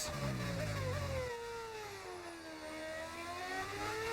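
Race car engine fitted with engine mods in a racing video game, at Austria on the final lap, holds a steady high whine with rising and falling pitch, alone and close, after a brief low rumble at the start.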